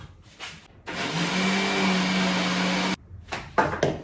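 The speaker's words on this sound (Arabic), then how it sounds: "ضربنا البيض مع الفانيليا في الخلاط الاول" A blender whirs loudly and steadily for about two seconds beating eggs with vanilla for crème caramel, then cuts off, with clattering kitchen sounds before and after.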